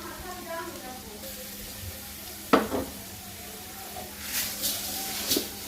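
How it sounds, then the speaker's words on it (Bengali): Sliced onions frying in oil for pulao give a soft, low sizzle with a sharp clatter of a utensil midway and a few stirring scrapes near the end, with no talking. "পেঁয়াজ দিলাম আর তেল দিব এরপর পেঁয়াজটা ভাজবো"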